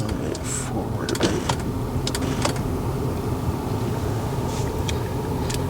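The power seat motor of a 2006 Lincoln Town Car Signature Limited whirs steadily as the seat moves forward, a close, continuous electric hum inside the car broken by a few sharp clicks.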